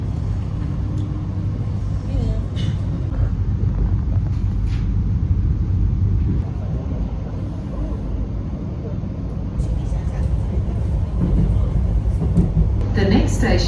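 A steady low rumble and hum fills the cabin of a moving Melbourne suburban train bound for Glen Waverley, with faint rattles and creaks throughout and no clear talking.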